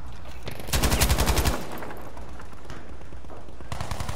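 Rapid automatic gunfire in a video game, a loud burst of closely spaced shots followed by sparser, quieter shots and another short burst at the end, with no voices.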